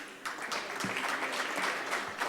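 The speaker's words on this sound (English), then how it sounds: "go ahead, clap" Audience applause at a city's State of the City address during a list of sponsors: steady, moderately loud clapping spread evenly through the hall, with brief murmurs of voices underneath.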